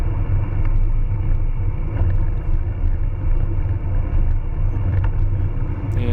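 Cars pass a cyclist riding with other riders on a road, a continuous loud engine and tyre rumble with wind buffeting the microphone, no voices.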